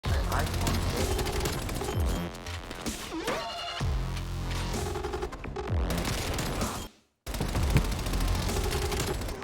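Rapid MP5 submachine gun bursts in a team deathmatch video game round crackle loudly several times over busy game sound effects, with short pauses between the volleys.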